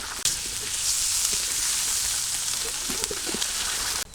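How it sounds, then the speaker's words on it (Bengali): Garlic and onion paste fries in hot oil in a village kitchen, giving a loud, steady, close sizzle with a few faint clinks, and no talk. "আর একটু তেল দিয়ে দিলাম রসুন বাটা পেঁয়াজ বাটা"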